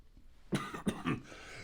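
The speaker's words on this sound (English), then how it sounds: "who's getting the coughing attack today" A person gives a short burst of two or three quick, dry coughs indoors, faint and close, with no talking around them.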